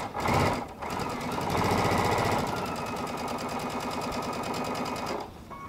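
A sewing machine stitches a quarter-inch quilt seam from Tula Pink charms and strips in a fast, steady mechanical chatter that runs continuously for several seconds, close and even, before stopping.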